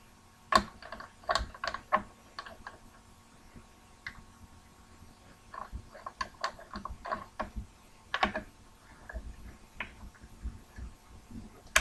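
A screwdriver tightening screws while a Mosin Nagant 91/30 rifle is reassembled: scattered small metallic clicks and scrapes in an irregular rhythm, close and fairly quiet, with no talking.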